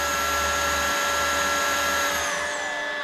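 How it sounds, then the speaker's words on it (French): An OSOTEK H200 wet vacuum cleaner runs with a steady, close motor whine and a constant high-pitched tone, holding even throughout with no pauses. "Donc là je ne fais rien et l'aspirateur va tout seul."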